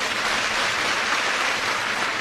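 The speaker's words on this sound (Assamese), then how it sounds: "আপোনালোকে এটা ডাঙৰ হাত চাপৰি বজাই দিয়ক" A large audience at an Assam government scheme event gives a big round of applause for a minister and officials, a thick, even wash of many hands clapping at a steady level throughout.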